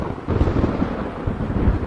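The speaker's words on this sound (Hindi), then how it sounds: "तभी अचानक आसमान में जोर से बिजली कड़की" In a Hindi horror audio story, a thunder crack booms loudly over a dense rumble of storm and rain, continuous for about two seconds with heavy low-end rolling.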